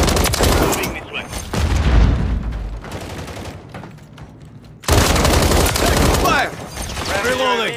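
Bursts of automatic gunfire in Call of Duty Modern Warfare, a Kill Confirmed match, heavy and close with a pause mid-way, then a loud renewed burst, with radio chatter and voices underneath.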